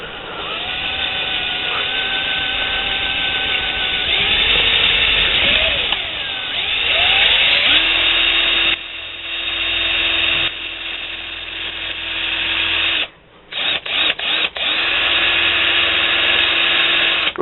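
A high-speed rotary tool whines as it drills a triple exhaust port into a Yamaha YT175/Blaster cylinder, with steady pitched grinding that varies under load and drops out briefly near the end.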